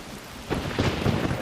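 Steady rain pours in the Fallout 76 game world at a fishing spot in the Savage Divide, a dense hiss with a low rumble like distant thunder swelling after the first half second and holding.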